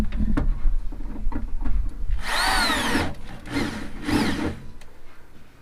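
A power drill whirs in two short bursts while a car's 5.3 LS engine is being modified, its pitch rising and falling, between lower clunking and handling noises.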